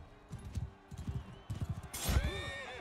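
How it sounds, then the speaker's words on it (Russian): Horse hooves clip-clop in a quick galloping rhythm in the medieval combat video game Mount & Blade II: Bannerlord, followed by a loud whinny, with someone speaking faintly underneath. "Хорошо, здесь лошадь."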